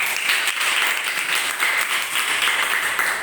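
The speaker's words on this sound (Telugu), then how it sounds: "క్లాప్స్ కొట్టండి." A group of children clap together on request during a Bible quiz, producing dense, steady applause that holds for several seconds without talk.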